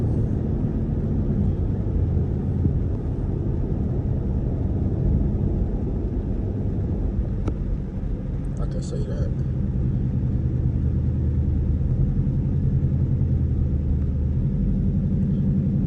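Deep, constant exhaust rumble from a straight-piped Jeep cruising along, close and heavy, with someone talking briefly over the drone partway through.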